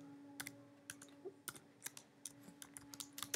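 Quick, light clicks of computer keyboard keys as an SQL query is typed, irregular taps in short bursts, close and quiet with a faint hum beneath.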